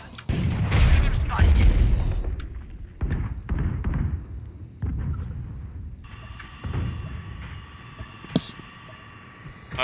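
In a multiplayer shooter video game, a grenade blast makes a loud booming thump that rumbles and fades, followed by further distant thuds and a high electronic tone, with players talking over it.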